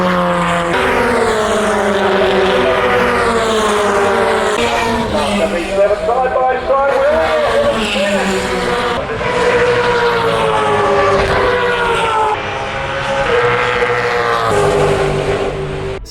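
Classic race cars roar around the Phillip Island circuit at a vintage motorsport festival, a loud continuous engine howl with shifting pitch as cars pass, under steady crowd and track ambience.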